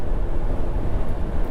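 Strong gusting wind buffets a van moving along a highway from Ashland, Wisconsin toward North Dakota, a steady low rumbling roar of wind and road noise with no one talking.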